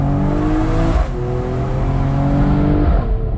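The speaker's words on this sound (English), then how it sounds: "I love how the inline-6 engine just sings" A Mercedes-AMG E53 Cabriolet's inline-six engine revs up close and loud as a steady, sustained drone whose pitch climbs and shifts, with a brief dip partway through and no talking.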